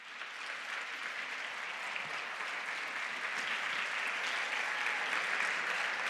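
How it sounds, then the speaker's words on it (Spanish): Audience at a science talk event applauding a speaker: dense, sustained clapping at an even level throughout, slightly distant and soft, with no talking over it. "Con lo que un grandísimo aplauso para José Luis Crespo."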